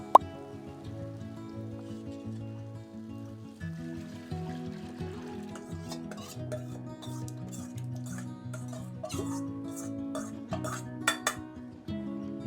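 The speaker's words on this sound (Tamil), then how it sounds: "இதுக்கப்புறம் நம்ம பாயில் பண்ண தாலை ஊற்ற போகிறோம்" Boiled dal being poured into a pot of simmering sambar: soft plops and splashes with light clinks of a metal vessel and spoon, over a steady musical backing, close and moderately quiet.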